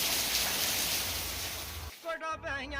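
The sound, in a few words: very heavy rain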